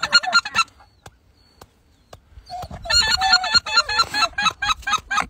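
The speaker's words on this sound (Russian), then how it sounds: "Слышим голоса гуменника, но мало." Bean geese and white-fronted geese give loud, nasal honking calls at close range, first in a short burst, then after a quiet pause in a denser, overlapping flurry of honks.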